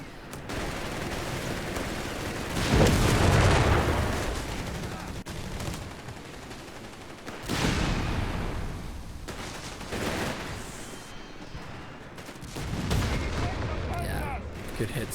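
Heavy anti-tank gun fire from an M1 anti-tank gun in a strategy war video game, with three loud booming bursts and rumbling battle noise between them.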